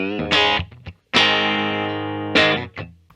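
A Fender Telecaster electric guitar, a 2021 75th Anniversary model, plays through distortion and effects: a few loud sustained chords with one long ringing note between short bursts.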